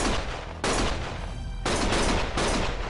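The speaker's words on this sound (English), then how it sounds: "Stop shooting!" Bursts of sustained automatic gunfire in Lost Judgment, loud and close, coming in three long volleys separated by short pauses.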